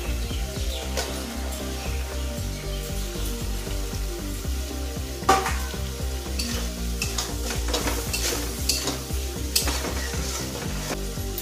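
Potatoes frying and being stirred in an egg curry pan, with a steady close sizzle under repeated scraping stir strokes throughout, and no voices.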